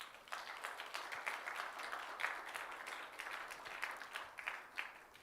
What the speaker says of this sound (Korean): 감사의 박수를 한번